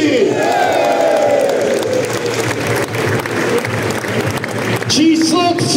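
Applause and crowd noise fill a cup and medal ceremony, steady and loud throughout, with a rising tone near the end.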